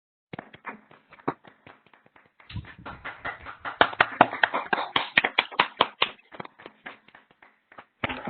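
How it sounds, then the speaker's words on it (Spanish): Participants in an online video session clap through their microphones: sparse single claps at first, then a thicker, uneven patter of hand claps, then thinning to a few last claps, with no talk. "les pido a todos desactivar sus micrófonos para brindarle un fuerte aplauso"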